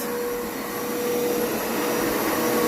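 A Hoover Spin Scrub 50 carpet cleaner runs with a loud, steady motor whine and airy roar that holds constant and close throughout.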